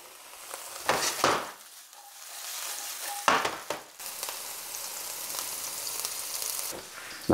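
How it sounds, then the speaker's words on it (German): Bell pepper frying in clarified butter in a pan, a steady sizzle with louder bursts of spattering and stirring, close up and with no talking. "Dann kann ich die noch ein bisschen anbraten."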